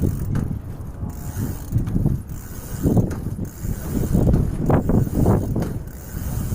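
A bicycle crank is turned by hand during a repair, giving a close run of mechanical clicks, whirs and ratcheting rattles that rise and fall in uneven bursts, with some wind-like rumble underneath.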